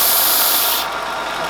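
A power sanding machine working on a wood piece gives a loud, close, continuous abrasive hiss that softens slightly partway through, with no voices.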